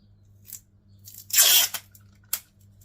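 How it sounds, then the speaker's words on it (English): Tape is torn off a roll to seal a homemade scented wardrobe sachet: one loud ripping pull in the middle, with shorter tearing sounds before and after, close up in a quiet room. "Then we tape it closed very well."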